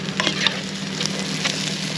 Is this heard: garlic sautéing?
yes